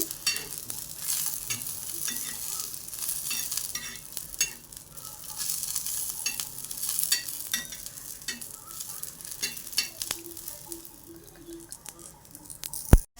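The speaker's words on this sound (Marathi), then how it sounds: "त्यामुळे मी याच तव्यावरती मिरच्या भाजून घेते" Green chillies roast on a hot tawa in a home kitchen, giving a steady close sizzle and crackle with occasional stirring scrapes, no voices.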